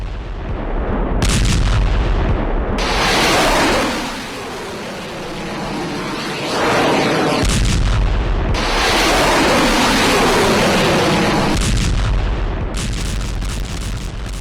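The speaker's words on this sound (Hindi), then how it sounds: "वीडियो में देखा बड़ा धमाका, कई फीट ऊंचा आग का गुबार भी उठ गया" Wartime blasts from a UR-77 mine-clearing vehicle attack roar loudly in successive waves, with heavy booming rumbles and crackling gunfire-like bursts sustained across the whole stretch, no speech.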